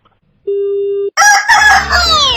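Rooster crow jingle for the Mirchi Murga radio prank call show: a steady electronic tone, then a loud, close cock-a-doodle-doo crow with falling pitch, standing alone without talk.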